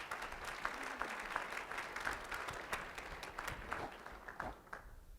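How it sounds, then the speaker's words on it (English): Audience applause rising for a woman walking to the front at a workplace wellness summit talk: steady, dense clapping from a fairly large crowd, moderately quiet and continuous, fading slightly at the end. "a big round of applause as she makes her way to the front."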